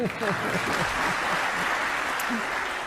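A large audience cheers and applauds a visiting Prime Minister's remarks on Australia and India, with a dense, continuous wash of clapping and shouts and no letup.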